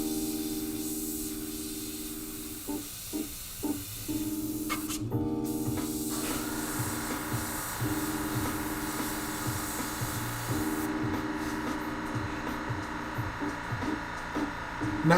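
Airbrush spraying paint on a skull design: a steady hiss of air and paint with short bursts and pauses as the trigger is worked, then a longer continuous spray, close and moderately loud, with no talk.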